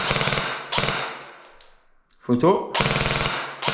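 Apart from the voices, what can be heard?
CZ Scorpion EVO airsoft AEG firing a three-round burst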